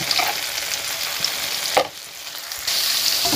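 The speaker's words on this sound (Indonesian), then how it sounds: "Oke, terus kita aduk sama terongnya teman-teman." Eggplant stir-fried in a hot wok with seasoning gives a steady close sizzle for the whole stretch, with a brief scraping stir near the middle and the frying crackle picking up again near the end.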